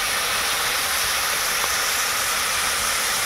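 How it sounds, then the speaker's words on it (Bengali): Jhinge aloo shrimp curry with gravy boiling in a pan, a steady broad bubbling hiss that stays constant and fairly loud, with no talk over it. "দেখুন ফুটছে"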